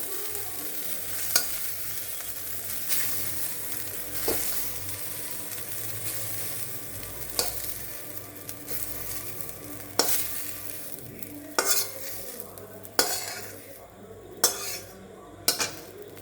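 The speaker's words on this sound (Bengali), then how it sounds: "ডিম আর সোয়াবিন আমি আলাদা করে ভেজে রেখে দিলাম" Egg and soybean chunks frying in hot oil in a pan for soya chowmein, a continuous close sizzle broken by repeated scraping and clinking strokes of a metal spatula as they are stirred.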